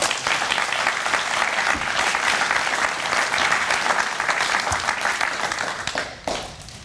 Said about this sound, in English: let's give Owen another round of applause.